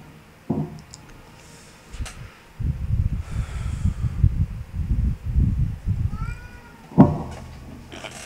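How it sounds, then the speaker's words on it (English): A cat meows loudly and close by, once near the start and again near the end, with low rustling and rumbling movement in between. "Stop meowing."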